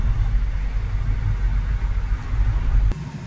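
Citroën C4 Grand Picasso on a test drive with cruise control engaged, a steady low engine and road drone heard from inside the car, continuous and fairly loud with no talk.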